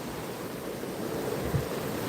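Water rushes and washes steadily, a broad continuous noise that sounds like surf or flowing water, fairly close, with no voices.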